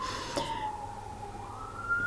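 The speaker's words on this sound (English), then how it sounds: "A siren again." A faint, distant siren wails, its tone sliding down and then rising again against a low background hum.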